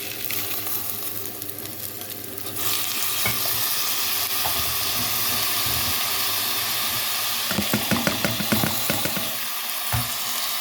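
Rice and browned onions fry together in a pan for Egyptian sayadeya rice, hissing with a loud, steady sizzle as a spoon stirs and scrapes. A burst of stirring clatter comes near the end.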